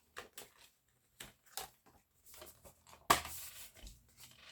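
Cardboard J card and stickers being peeled and pulled from a movie steelbook case, a run of quiet crinkling, tapping and scraping handling noises with one sharp louder rustle near the end.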